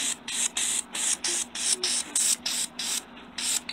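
Spray paint is applied to a metal tumbler in about ten short, evenly spaced hissing bursts with brief pauses between them, close and fairly soft, with no voices.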